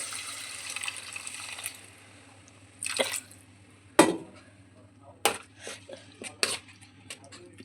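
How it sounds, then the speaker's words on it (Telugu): Water is poured into a cooking pot of horse gram ulavacharu, with splashing bursts, drips and occasional metallic clanks of the pot over a quiet background hum, and no voices. "ఇది మగ్గేటప్పుడు కొంచెం వాటర్ పోసుకోవాలి"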